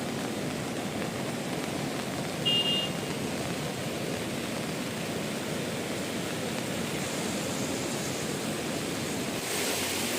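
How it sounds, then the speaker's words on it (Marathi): The flooded Agasti river rushes past in monsoon spate near a bridge, a steady broad roar of fast water heard continuously, with no speech. "आगस्ती नदीचं पाणीचं स्पीड बघा"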